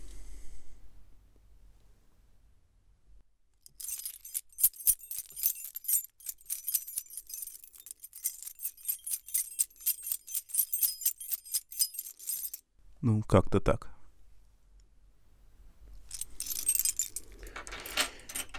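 A bunch of keys jangles and clinks close to a microphone plugged into a Zoom U-24 or U-44 handheld audio interface, coming in repeated bursts with short pauses, while someone says a few words in Russian.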